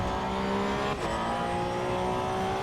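In the Assetto Corsa EVO sim racing game, a Porsche Cup car holds a steady high engine note with a brief dip from a gear shift before continuing to rev, loud and alone.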